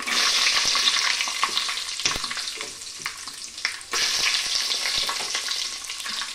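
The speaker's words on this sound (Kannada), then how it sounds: "ಎಣ್ಣೆ ಕಾಯ್ದಿದೆ. ಇವಾಗ ಶೇಂಗಾನ ಹಾಕೊಳ್ಳೋಣ." Peanuts fry in hot oil for a palaw, giving a loud, dense sizzle with scraping stirs, a brief dip midway and then a renewed burst of crackling up close.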